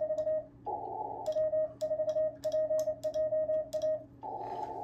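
A telegraph key sends Morse code as a steady electronic tone broken into short and long beeps in an irregular on-off rhythm, with faint clicks of the key under the tones and no talk.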